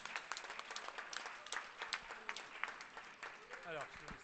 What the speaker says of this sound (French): Donc, applaudissez-vous pour cette réussite.